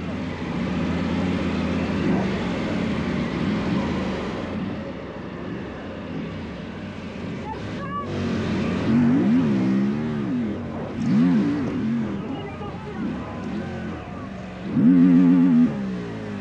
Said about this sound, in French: Regarde, hop, le petit dérapage.